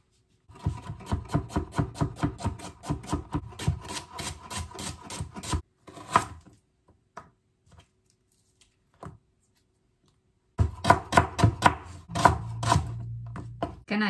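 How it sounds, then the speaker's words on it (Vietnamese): Rapid, rhythmic knife chopping as lemongrass, shallots and garlic are minced on a cutting board, close up, in two bursts separated by a few quiet seconds with scattered single taps. "Sả, hành, tỏi thì mình sẽ băm nhỏ ra."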